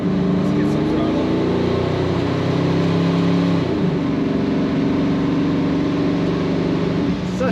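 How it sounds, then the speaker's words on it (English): A 1962 Chevrolet Impala SS Sport Coupe's engine idles then rises as the throttle is blipped, a steady deep exhaust note from the tailpipe with a pitch change midway, close and continuous, with a voice faintly over it. "Such a good sound coming out the tailpipe of this car."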